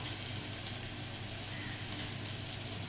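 Onion and tomato frying in a pan with turmeric and masala: a steady, dense sizzle close up, continuous and fairly loud, with no speech.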